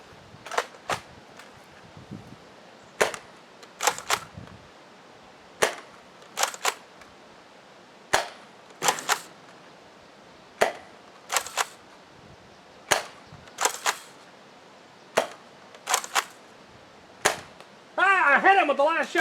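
Toy blaster shots fire at a target range, a series of sharp, close snapping pops spaced irregularly over several seconds, followed by a brief burst of electronic tones at the end.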